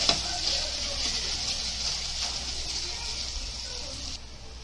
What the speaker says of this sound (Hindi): इसको अच्छा बारीक गैस पे भूनने का।